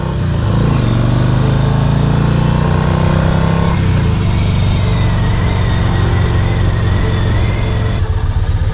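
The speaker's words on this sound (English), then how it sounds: "So like if you're in 2nd or 3rd gear, the bike just lugs along happily, no issues" A 2006 Yamaha Midnight Star Roadliner big cruiser motorcycle lugs along in 2nd or 3rd gear with a loud, steady low engine drone and wind rush, the pitch dropping once partway through.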